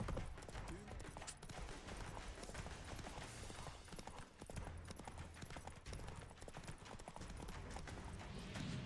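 Galloping horse hooves in The Witcher 3 video game, a fast steady clip-clop running throughout over dense game sounds, with the player talking at times.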